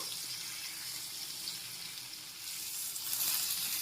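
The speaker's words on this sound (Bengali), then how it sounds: "এখন উল্টিয়ে উল্টো পিঠগুলো এক মিনিট মতো ভেজে নিতে হবে" Rui fish fries in a pan for a spicy curry, a broad hissing sizzle that swells louder near the end, close and continuous with no speech.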